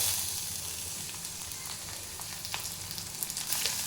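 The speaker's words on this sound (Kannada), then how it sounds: "ಇವಾಗ ಕಟ್ ಮಾಡ್ಕೊಂಡಿರುವಂಥ ಟೊಮ್ಯಾಟೊನ ಹಾಕ್ಕೊಳ್ಳೋಣ." Chopped tomatoes hitting frying onions in a pan for a North Karnataka jowar mudde meal, a close, loud sizzle with crackles and small pops that pick up toward the end.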